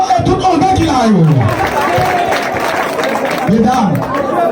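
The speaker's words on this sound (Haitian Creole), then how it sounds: "Trois applaudissements pour tout maman et tout enfant qui l'a eu." A crowd at a Haitian gathering claps and cheers in a dense, sustained wash of applause and chatter, with a loud voice speaking over it throughout.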